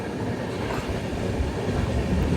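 Gatiman Express, India's fastest train, running between Hazrat Nizamuddin and Jhansi, heard as a steady, loud rolling rumble of wheels on rails with continuous low-frequency roar and no voices.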